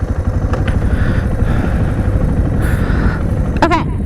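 A motorcycle engine runs steadily and loudly close by during a beginner riding lesson, with a brief rising whine near the end.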